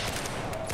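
A dense, rapid exchange of automatic gunfire in Battlefield 4 on PC, loud and continuous over a brief moment with no gaps.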